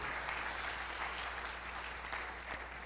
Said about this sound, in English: everyone give John a round of applause.